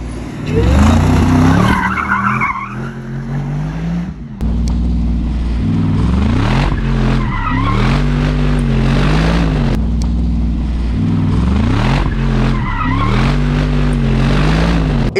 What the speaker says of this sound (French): ce que ça traque, le V8 compresseur, c'est impressionnant